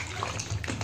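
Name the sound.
mushrooms being washed and rubbed in water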